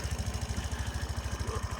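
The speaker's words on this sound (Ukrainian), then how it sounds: "Гарно працює двигун, чисто, питань у мене немає." A Suzuki Address V125 S scooter engine idles steadily, its fast, even low thump repeating without a break, close up and alone.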